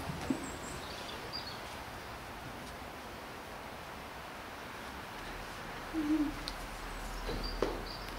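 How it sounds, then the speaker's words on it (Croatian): Small birds call up in the trees, a few faint, scattered notes over quiet outdoor air with a soft rustle, heard from a distance with no talking. "Čujemo ptičice, su one gore u drveću, pa ih samo čujemo, a ne vidimo"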